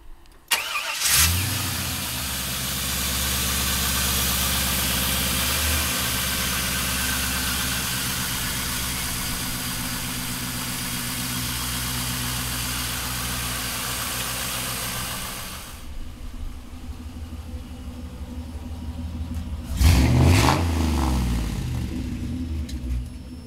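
A 1956 Chevrolet Bel Air restomod with an LS1 V8 engine starts up and runs at a loud, steady rumbling idle, then falls quiet before a brief rev near the end.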